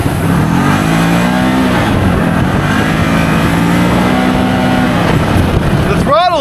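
A Maverick XMR Sport side-by-side on 30-inch tires revs in sport mode, a loud close engine roar that rises and falls in pitch through several throttle swells, ending with a brief sharp sweep.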